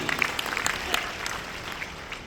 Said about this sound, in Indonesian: Oke, kita berikan aplaus sekali lagi.